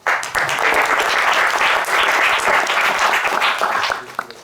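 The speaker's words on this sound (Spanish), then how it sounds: "démosle la bienvenida al profesor Humberto con un aplauso." Loud, sustained applause from a crowd, many hands clapping steadily before it tapers off near the end.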